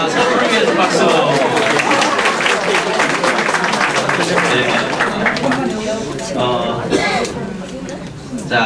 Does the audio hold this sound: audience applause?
yes